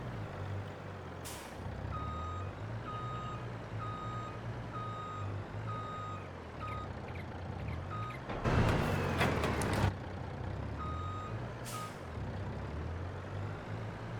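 A farm truck in a farming simulation game backs up with evenly spaced reversing beeps over a steady diesel engine drone. Partway through, a loud hiss of air brakes bursts out briefly, and then the beeping goes on.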